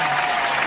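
Applause for Terry on a podcast, a brief, dense, steady wash of clapping with no talking.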